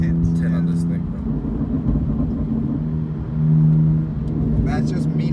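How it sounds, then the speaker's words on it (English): A sports car engine, a Ferrari replacement, rumbles with a raw, steady low drone as the driver lifts off the accelerator, swelling briefly midway; heard from inside the cabin, close and loud. "That's just me letting go of the accelerator. That's how raw it sounds."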